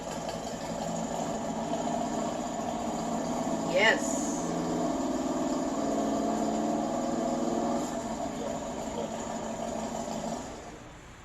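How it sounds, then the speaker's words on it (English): A motorcycle engine turns over and settles into a steady, low rumbling idle that holds for several seconds before fading, heard close in a workshop with a short spoken reply over it. "start the motorcycle"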